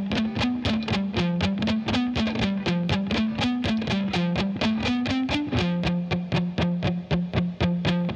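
Heavily distorted electric guitar picked lightly and fast, a steady stream of even staccato notes with a scratchy, saturated tone, loud and close throughout with no voice over it.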